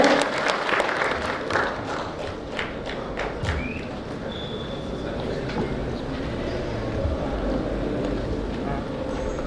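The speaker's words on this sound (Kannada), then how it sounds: "ಸೊ ನಿಮ್ಮೆಲ್ಲರ ದೊಡ್ಡ ಚಪ್ಪಾಳೆಯೊಂದಿಗೆ ಸ್ವಾಗತಿಸಿ ರವಿಶಂಕರ್ ಸರ್." An audience at a stage event for the UI film pre-release welcomes Ravishankar with sustained, fairly loud applause and crowd noise, scattered sharp claps standing out early and voices mixed beneath.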